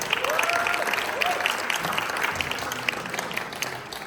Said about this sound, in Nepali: हामी ठुलो ताली बजाउनेछौँ।